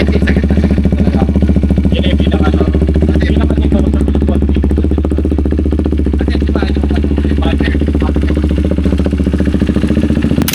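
A KTM Duke 390 motorcycle engine runs steadily and loudly close by for several seconds, with a constant throbbing rumble and a light mechanical clatter.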